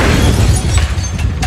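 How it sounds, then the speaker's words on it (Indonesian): A car blowing up in a film scene: a loud, sustained rumbling blast with heavy low-end roar and scattered crackling debris, dense and continuous for the whole moment with no voices. "mobil itu meledak"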